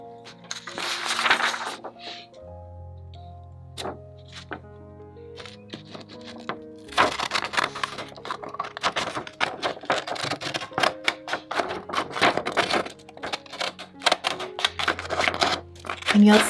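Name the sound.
cutting paper border with decorative craft scissors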